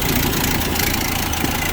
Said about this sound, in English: Engine runs smooth, sounds good.